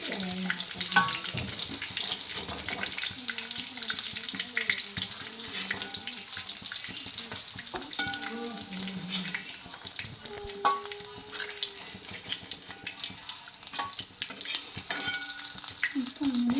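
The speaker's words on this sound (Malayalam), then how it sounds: "നമ്മുടെ ഒരു ട്രിപ്പ് ചിക്കൻ നമ്മൾ വറുത്തെടുക്കും" Chicken pieces fry in hot oil for a mayonnaise chicken dish, giving a continuous bright sizzle and crackle throughout, close up, with occasional clinks and faint stirring sounds beneath.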